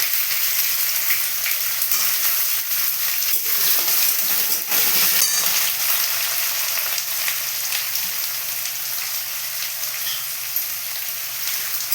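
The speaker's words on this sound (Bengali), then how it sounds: "পেঁয়াজগুলোকে খুব লাল লাল করে ভেজে নেব" Onions fry with bay leaves in a pan for a chicken curry, producing a continuous loud, close sizzle with a few faint crackles.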